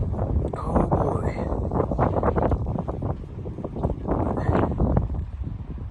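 Cold, gusty wind blows outdoors while a used metal carport is taken down, a steady loud roar buffeting the microphone throughout with rustling and faint clatter in the background.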